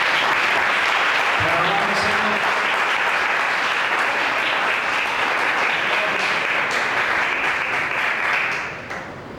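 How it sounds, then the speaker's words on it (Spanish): A large church congregation claps in sustained, enthusiastic applause that carries on evenly and fades out at the end. "Dale un fuerte aplauso a Jesús."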